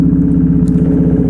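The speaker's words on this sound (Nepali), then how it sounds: "ल स्टार्ट भयो मेरो बाइक" A KTM Duke 390 motorcycle engine running steadily right after starting, a close, loud single-cylinder thrum with a low rhythmic pulse and light mechanical clatter throughout.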